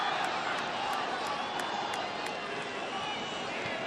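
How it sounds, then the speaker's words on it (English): Crowd in a Baltimore football stadium cheering during a Barcelona v Borussia Dortmund Champions League match, a continuous loud roar of many voices with no pauses, steady throughout. "Well, that's got the crowd to their feet."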